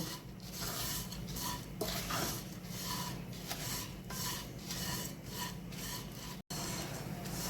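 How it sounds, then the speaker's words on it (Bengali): Dry vermicelli (shemai) is fried in a pan before milk goes in for a sweet pudding. A utensil scrapes and stirs it in repeated raspy strokes, close and fairly soft, with no talking. "সিমুইটা একটু হালকা লাল লাল করে ভাজবো"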